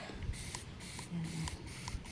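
A handheld spray bottle mists flowering plants in bloom, giving repeated soft hissing bursts about every half second, close by, over faint rustling handling noise.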